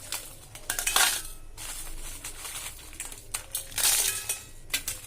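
Dried Byadgi chillies dropped into a steel bowl give bright, irregular clinks and rattles in several bursts, close and fairly loud, with no talking.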